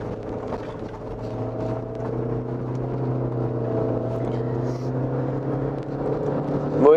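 A Renault Scénic drives off-road with a steady, droning engine hum and low rumble, holding an even pitch throughout, and no voices over it.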